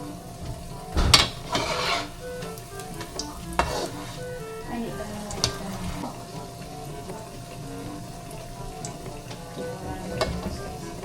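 Maruya banana fritters sizzle in hot frying oil, a close, steady crackle broken by occasional sharp clinks and scrapes of a utensil against the pan.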